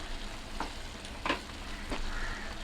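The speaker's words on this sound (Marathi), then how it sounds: "आणि ही आता आपल्याला चांगली 5-6 मिनटं चांगली ही परतायची आहे" Masala for prawn biryani sautés in a pan with a steady, close sizzle, broken by a few soft scraping stirs.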